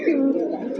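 A pigeon gives a single short, throaty coo up close, loud and clear, at a Bangladeshi pigeon dealer's.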